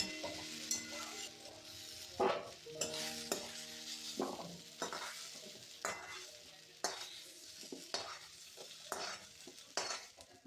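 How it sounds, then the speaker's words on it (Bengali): Potato and pointed gourd frying in a wok, with a spatula scraping and clanking against the metal in repeated strokes over a soft, continuous sizzle. "খুব সুন্দরভাবে ভাজা হয়ে গিয়েছে আলু কাঁকরোল"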